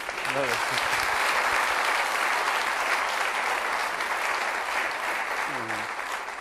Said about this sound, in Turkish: Bravo. Bir alkışlayalım lütfen.